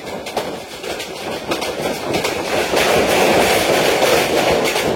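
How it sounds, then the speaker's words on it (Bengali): The Mohanagar Godhuli Express running through Ghorashal station, heard as a continuous rolling rumble with rail clatter that grows steadily louder and denser over a few seconds. "আমাদের ট্রেনটি এখন Ghorashal railway station through pass যাচ্ছে"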